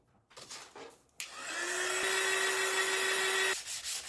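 A heat gun blows steadily on stencilled paint on a wooden board: a hard click starts a loud, broad whooshing roar with a steady whine that runs for about two seconds and then cuts off abruptly. Faint handling noises come before it.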